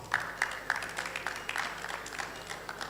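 Clapping from an audience at an African research and innovation commercialisation summit, a sustained patter of many hands with a few sharper claps standing out, moderately loud and continuous.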